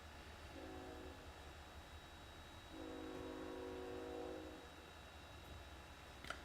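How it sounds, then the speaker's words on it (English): A train passes in the background, its horn sounding in two sustained tonal blasts, the second longer, over a steady low rumble; fairly faint and distant, with no talking. "I hope y'all can definitely hear the train, can't you?"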